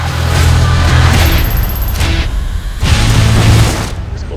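Gunfire and booming blasts from a Western film shootout, loud and continuous with heavy low rumble, a brief lull midway before another dense burst of shots.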